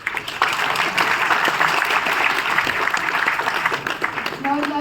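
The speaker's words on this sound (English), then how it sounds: "I also welcome Dean sir to the stage with a round of applause" Audience applause at a technology festival session at IIT Bombay, a continuous wash of clapping with some voices mixed in.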